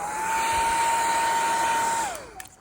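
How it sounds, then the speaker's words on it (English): A heat gun blows a steady, loud whooshing hum while heating vinyl wrap on a car roof, holding one pitch for about two seconds before winding down and stopping. "take this heat gun or your hair dryer, whatever."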